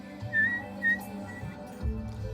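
Cooling breath drawn in through pursed lips, producing soft airy whistles in two short rising bursts, close and quiet, with faint breathy hiss in between.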